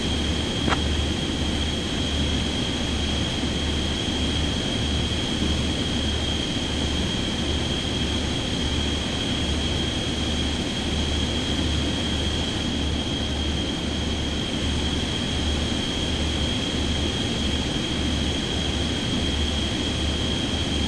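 Airliner on final approach into Belfast in Microsoft Flight Simulator 2024, a steady loud engine drone with a constant high whine and a low rhythmic pulse throughout, no voices.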